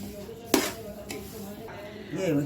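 Semolina sautéed in ghee in a pan for prasad sheera, with a sharp metal clink of a spoon against the pan, soft scraping stirs and a low sizzle throughout.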